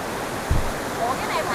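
Steady rushing water of a waterfall at a scenic tourist spot, a broad continuous wash with a brief low thump midway.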